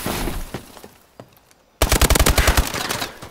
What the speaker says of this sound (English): I love how I'm shooting at him first and he's the one who kills me